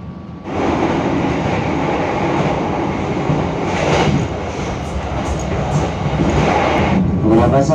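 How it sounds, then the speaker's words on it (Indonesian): The Jaka Tingkir train rolls into Klaten station with a loud, steady rumble of railcars and clattering wheels, and a voice may speak faintly beneath the noise. "kereta api Jaka Tingkir akan segera tiba dan berhenti di stasiun Klaten"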